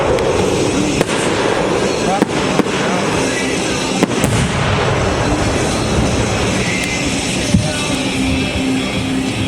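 An 8-inch 1.3 aerial firework shell lifts off and bursts at a pyrotechnics demonstration, a loud sustained roar and crackle with sharp reports scattered through, outdoors with crowd noise.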